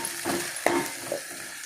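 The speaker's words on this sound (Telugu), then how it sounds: "ఇదిగోండి ఉల్లిపాయ ముక్కలు కొంచెం బాగా కొంచెం గోల్డ్ కలర్ వచ్చే వరకు వేగాలండి." Sliced onions and green chillies sizzle in hot oil in a pan, a steady close frying hiss with a couple of soft scraping stirs.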